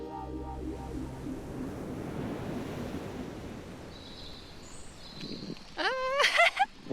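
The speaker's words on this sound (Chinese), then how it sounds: "夫妻俩听闻潮汐，吹着海风，享受美好的海边露营时光。" Sea waves wash against the shore with wind noise at a seaside campsite on Ja-eundo Island, Korea, a steady surf roar filling the scene before a brief whistling, chirping sound rises near the end.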